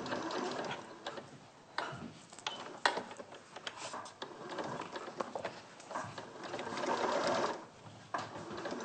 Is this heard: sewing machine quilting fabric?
yes